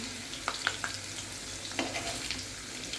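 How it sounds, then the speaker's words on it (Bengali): Potatoes frying in a pan give a continuous close hiss, broken by a few brief stirring clinks and scrapes, with no one talking. "আজকে একটু ভেজে নিচ্ছি"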